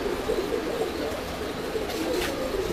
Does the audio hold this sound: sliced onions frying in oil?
no